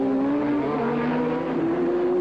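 Formula 1 cars race through the 1983 Detroit Grand Prix street circuit, a close, high-pitched engine whine that climbs steadily in pitch as one car accelerates, loud and continuous for two seconds with no voices.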